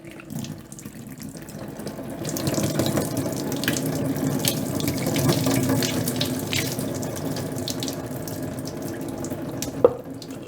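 A litre of water is poured onto washed sphagnum moss, a steady close splashing flow that swells and then holds, ending with a single small knock.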